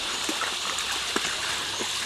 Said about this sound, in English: And here we have the waterfall.